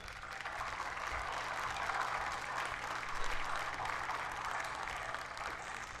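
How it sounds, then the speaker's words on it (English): A distant, fairly faint round of applause from an audience honoring school students, sustained and even for several seconds with a low hum beneath it. "Let's give them a big round of applause."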